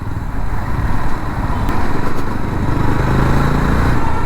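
Jawa 42 FJ 350 motorcycle cruising in fourth gear at about 20 kph, a close, loud, steady engine thrum with an even low pulsing exhaust beat throughout.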